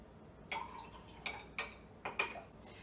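Strong acidic hypochlorous acid water poured into glasses, heard as a few short close clinks and splashes spaced irregularly, faint against a quiet room.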